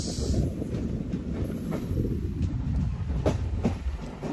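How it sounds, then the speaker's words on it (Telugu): The Kadapa–Visakhapatnam Tirumala Express passes beside a goods train, a steady low rumble of wheels on rails with faint clicking joints, moderately quiet and continuous. "గూడ్స్ ట్రైన్ పక్కన ఇంకో ట్రైన్ ఉంది, అది తిరుమల ఎక్స్ప్రెస్ అవుతుంది అనుకుంటున్నాను నేను"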